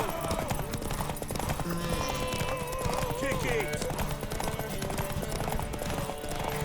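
Horse hooves galloping during a race to a tower in The Witcher 3: Wild Hunt on PS5, a steady, close clip-clop rhythm running throughout beneath shouting voices and busy game noise.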